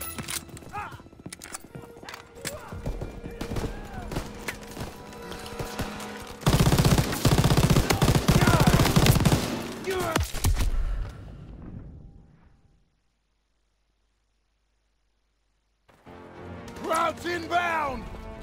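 Machine gun fire in the Call of Duty WWII video game: bursts of loud automatic fire mixed with battle noise and shouted voices, peaking in a dense stretch, then cutting to silence before voices return.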